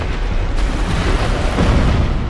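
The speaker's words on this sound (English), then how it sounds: "That little shockwave explosion thing." A boss's ranged shockwave explosion attack in Dark Souls, heard as a loud, dense rumbling blast that fills the whole stretch with heavy low-end roar and no speech.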